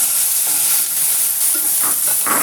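Spices and cooked green peas are stirred in a pan with ghee, the spoon scraping in a few soft, irregular strokes over a steady bright sizzle, close up and alone.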